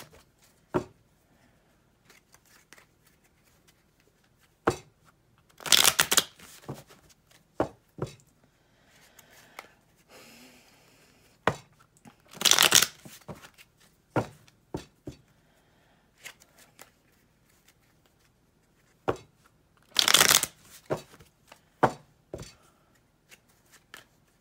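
Tarot cards are shuffled in short, crisp riffling bursts three times, with scattered taps and light handling clicks between them, close and fairly quiet, with no talking.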